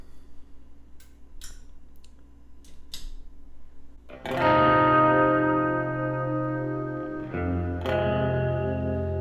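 After a few faint, sparse string taps, an electric guitar chord rings out loud through a Klowra Limbo reverb pedal set to Hall mode, sustaining in a wide wash, then a second chord blooms at about eight seconds.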